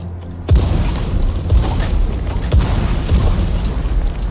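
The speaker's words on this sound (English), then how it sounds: "Cool guys don't look at explosions." Repeated explosions in the video game Dune: Awakening, a sudden heavy boom followed by several more deep blasts about a second apart, loud and rumbling over a dense roaring background.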